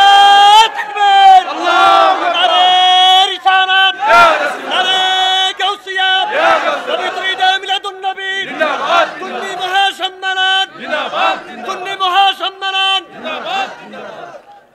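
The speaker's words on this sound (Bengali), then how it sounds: "দুই হাত তুলে স্লোগান লাগান ইনশাআল্লাহ" At an Islamic sermon rally, a large crowd loudly chants religious slogans in call-and-response with a lead voice. The shouted bursts are rhythmic and repeat over and over.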